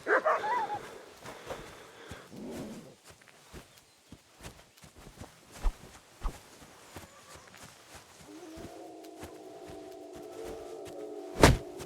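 A dog in the video game Kingdom Come: Deliverance II gives a few sharp barks and yips amid scattered footsteps, with a hum of game ambience rising toward the end and a loud bark near the close.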